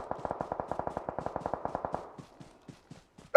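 Automatic gunfire from the PUBG video game rattles in a fast, even burst of about twenty shots that trails off into a few scattered, fainter shots.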